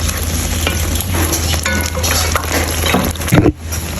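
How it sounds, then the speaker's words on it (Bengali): Masala spices with ground coriander stir-fried in hot oil, a steady close sizzle with stirring scrapes throughout and a louder clatter near the end. "এখন আমরা মশলাটাকে ভালো করে কষাই নিব যতক্ষণ পর্যন্ত তেল না উঠে আসে"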